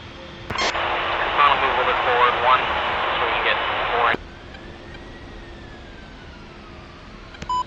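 An A-10C jet in the DCS flight simulator spools and runs on the ramp while taxiing, a steady turbine roar that cuts off abruptly midway, followed by a faint whine, occasional beeps and a radio voice.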